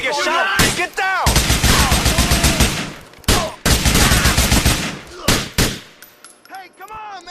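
Gunfire rattles through a shootout mission in the video game GTA IV. Dense, loud bursts of automatic fire repeat in several volleys, with shouting voices in between and brief gaps before the shooting resumes.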